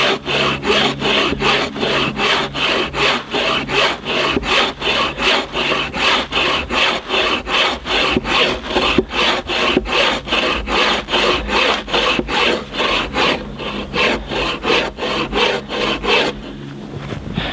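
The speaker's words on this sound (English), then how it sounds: "Little wood cutting to keep warm." A custom bushcraft takedown bow saw cuts through wood in long, even rhythmic strokes, loud and close, a steady rasping back-and-forth that runs for many strokes before stopping near the end.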